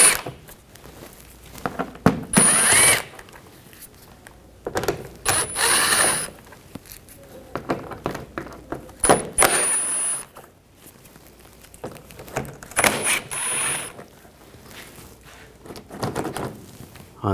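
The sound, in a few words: removing screws with a T20 socket on a 2014-2020 Nissan Rogue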